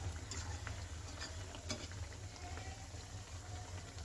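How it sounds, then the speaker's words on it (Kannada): A second batch of semolina and maida sweets frying in hot oil, giving a steady bubbling sizzle that runs evenly throughout, with no talking. "ಸೆಕೆಂಡ್ ಬ್ಯಾಚನ್ನು ತಿರುಗಿಸಿ ಹಾಕಿದ್ದೀನಿ. ಇದನ್ನು ಅದೇ ರೀತಿ ಫ್ರೈ ಮಾಡಿ ತಗೊಳ್ಳೋಣ ನಾವು."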